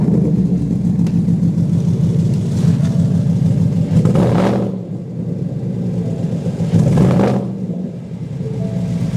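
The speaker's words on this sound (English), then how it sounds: "listen to how this beast sounds" A 2016 Ford Mustang V8 manual with a straight-piped, full stainless Cobra cat-back exhaust rumbles loud and close, with deep idle burble and two sharp throttle blips that rise and fall, no talking over it.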